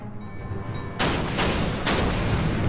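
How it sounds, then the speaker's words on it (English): A warship cruiser's naval guns in the World War II strategy game Order of Battle, set off Narvik, fire in two heavy booming blasts about a second apart, each followed by a long rumbling tail after a quiet opening. "That cruiser will take another shot probably."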